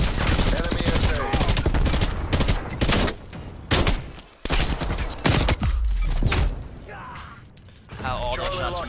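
Dense gunfire in the Call of Duty: Cold War video game, with rapid automatic bursts and single shots, loud and continuous, mixed with game sound effects and occasional talk.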